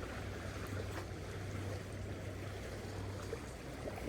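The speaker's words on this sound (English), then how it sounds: "lots of big waves here." Big waves wash steadily against the Niagara River shoreline, a continuous broadband rush of moving water with a low rumble underneath, fairly distant and without talk.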